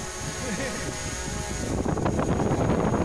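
An electric fan blows a steady, close rush of air that buffets the microphone and grows rougher in the second half, with a faint voice underneath at the start.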